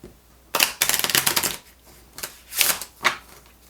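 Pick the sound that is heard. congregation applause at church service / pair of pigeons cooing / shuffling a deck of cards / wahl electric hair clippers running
shuffling a deck of cards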